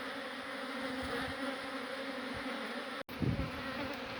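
Honeybees buzz and fan at a hive exposed inside a crumbling house wall, making a dense, continuous drone close up, briefly broken by a sharp knock near the end.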